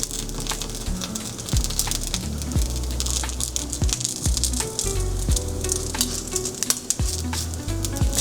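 Food sizzles and fries steadily in an electric skillet, a loud continuous hiss broken by scraping stirs and utensil knocks against the pan.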